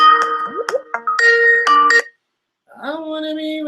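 A phone rings during a live radio call-in show. Bright, loud electronic tones and chimes come in short bursts, stop briefly, then return as a steady ringing tone, with no voices heard.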